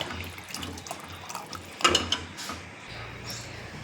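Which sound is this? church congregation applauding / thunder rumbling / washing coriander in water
washing coriander in water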